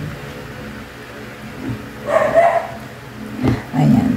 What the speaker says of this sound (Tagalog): Medyo nakikisabay din yung yung aso.